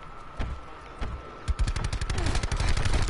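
Rapid automatic gunfire in a Black Ops 4 Zombies match, starting as scattered single shots, then breaking into a dense, loud, sustained burst of fast rounds for the last half of the clip, with no voices.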